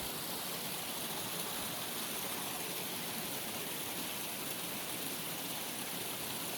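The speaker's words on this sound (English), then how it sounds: "This is a natural rock slide. And this water actually goes underground." Stream water flows over rocks at a natural rock slide in Vermont before going underground, making a steady, even rushing wash that stays constant throughout.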